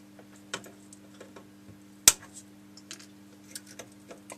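Component leads on a Sinclair Spectrum Plus circuit board being snipped off with cutters, one sharp loud snip standing out among a few lighter clicks over a steady low hum.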